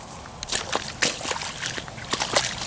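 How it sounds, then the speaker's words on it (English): Wet sloshing and splashing underfoot, irregular squelchy steps through a rain-waterlogged maize field with soft dripping, close by and fairly quiet. "look at the rain, look at the water here"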